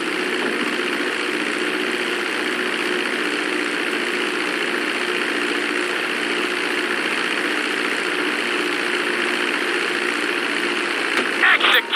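A steady, broadband engine roar from an airplane landing in GTA 5 holds loud and unchanging throughout, with a brief disturbance right at the end.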